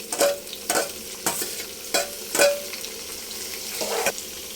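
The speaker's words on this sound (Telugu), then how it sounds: "ఉల్లిపాయ ఉడికిన తర్వాత టమోటా ముక్కలు వేసుకొని బాగా వేగనివ్వాలి" Onion and tomato pieces frying in a pan, with a soft sizzle under a regular series of about seven loud spoon strokes scraping and knocking against the metal, close and alone.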